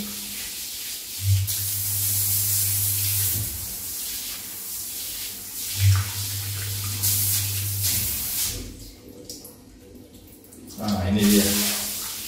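Water from a Stonestream shower head on its third spray mode, a broad hissing spray running steadily with brief surges, while a person talks over it.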